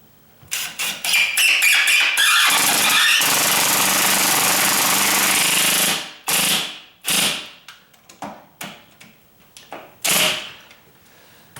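A powerful impact driver rattles hard and continuously for several seconds as it sinks a 3-inch screw into a condo garage door hinge, followed by a string of short bursts as it tightens it further.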